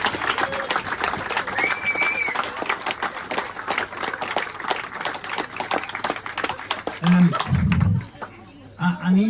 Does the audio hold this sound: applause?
yes